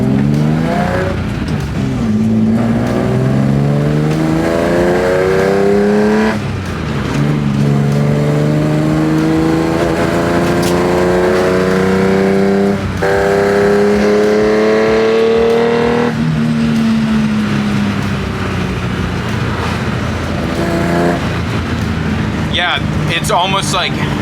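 A BMW E30 with a swapped S54 engine and a 4.10 limited-slip differential revs hard through short gears, each pull rising in pitch before quick shifts, loud and close from inside the car, with talking over it.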